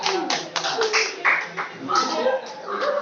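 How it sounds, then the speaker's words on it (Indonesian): A classroom group claps for student groups after their presentations, producing a short burst of scattered, uneven hand claps that rises and falls, with some voices mixed in. "Harus kita aplaus kepada kelompok 5 dan kelompok 6"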